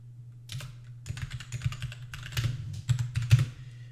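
Fingers type a git command on a computer keyboard in Git Bash, a steady run of close, crisp key clicks with louder strikes near the end, alone without talk.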